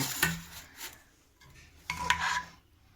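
Ghee khichuri of Gobindobhog rice and dal is scooped from a pot onto a plate, a few soft scraping and rubbing strokes of a ladle against metal with brief pauses between, close and fairly quiet.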